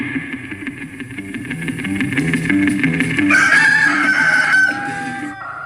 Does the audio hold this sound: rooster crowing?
yes